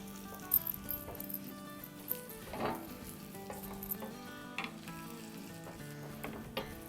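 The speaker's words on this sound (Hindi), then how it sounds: "बस इसी तरह कंटिन्यू करते हैं और उसको तलते जाएंगे" Oil sizzles softly under a stuffed chicken paratha frying on a hot griddle, a quiet continuous crackle broken by a few spatula scrapes and clinks.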